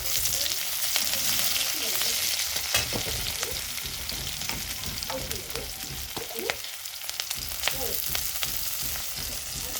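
Chopped onion and halved green chilies sizzle and fry in hot oil in a pan, a loud, steady crackling hiss throughout with faint stirring scrapes.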